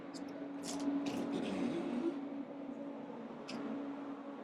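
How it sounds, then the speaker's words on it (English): A steady, low droning whir of a transport refrigeration unit's fan runs continuously, with a few faint hissy bursts on top, close and moderately quiet. "what you hear now is mostly the noise of the fan"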